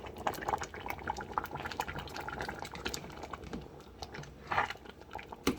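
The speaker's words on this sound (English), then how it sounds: "I'm just gonna let it simmer just a little while longer" Black bean salsa chili simmers in a pot on low heat, a close, quiet mass of popping bubbles and soft crackles that keeps up steadily, with a few slightly louder pops near the end.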